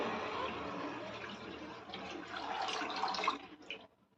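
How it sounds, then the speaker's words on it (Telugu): Water pours steadily into a pan for gulab jamun sugar syrup with a rushing splash, then tapers off and stops near the end. "ఇప్పుడు ఇందులోకి పాకానికి కావాల్సినన్ని నీళ్లు పోస్తున్నానండి."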